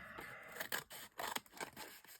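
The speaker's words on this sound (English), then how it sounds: "Need a bit of help with the old scissors." Scissors snip repeatedly through a shaving foam background, several quick close cuts in an uneven rhythm with no talking.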